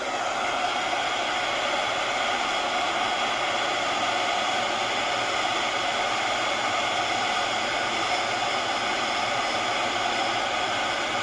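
A hair dryer blows steadily on a watercolor painting, a constant loud whooshing hum that runs close and unbroken throughout with no other sounds.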